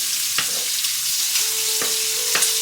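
Shrimp sizzling in a hot pan, a steady crackling fry with a few sharp clicks and a faint tonal hum in the background; no one speaks.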